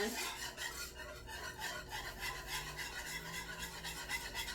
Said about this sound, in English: Whisk it in over low heat